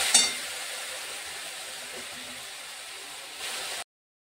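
Turmeric and coriander powder fry in hot oil, a soft, steady sizzling hiss close by after a brief sharp crackle at the start, swelling slightly near the end before cutting off.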